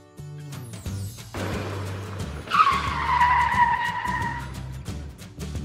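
A cartoon sports car makes a loud, sustained tire screech after an engine rev, holding for several seconds with a steady squeal over the motor.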